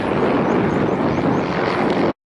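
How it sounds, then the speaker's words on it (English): A plane takes off from a busy nearby airport on a misty day, its engine roar a broad steady rumble, loud and continuous before cutting off abruptly, with no voices. "The planes are taking off every few minutes. It's quite a busy airport."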